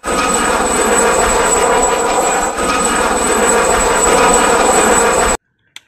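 A toy helicopter makes a steady, loud whirring drone like a rotor for about five seconds, then cuts off abruptly into near silence with a faint click.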